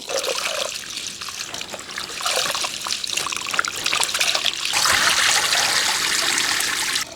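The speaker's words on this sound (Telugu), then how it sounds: "రెండు కట్టల గోంగూర ఆకండి శుభ్రంగా కడుక్కోవాలి" Gongura (sorrel) leaves, two bunches, are washed in water, giving steady trickling and splashing close by that grows busier and louder toward the end, with no one talking.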